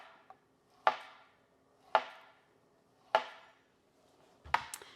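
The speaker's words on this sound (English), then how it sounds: "let's go ahead and cut this one" A knife chops through plantain on a cutting board in four crisp, close thunks spaced about a second apart, each with a short woody decay, and no talking.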